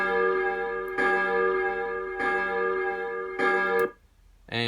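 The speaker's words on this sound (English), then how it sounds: "Then we got some church bells." Church bell sound from a Technics SX-K700 synthesizer: four evenly spaced, ringing bell strikes with rich sustained overtones, then a brief drop and the start of another tone.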